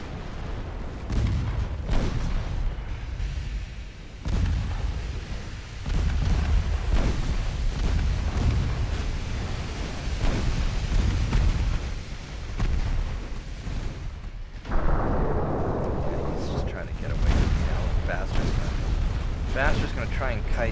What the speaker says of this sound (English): Main guns at the battleship